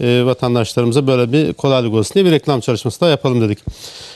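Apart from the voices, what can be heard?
No distinct noise like a dog, phone or traffic.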